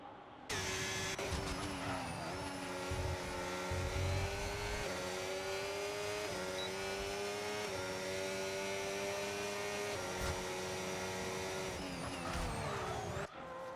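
Formula 1 cars race in the F1 25 video game at the Australian GP, a continuous loud engine whine that holds steady with small pitch shifts and brief drops, near and without talk.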